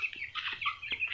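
Young village chickens, raised from day-old chicks, cluck and chirp in short repeated bursts, close and clear with no talking.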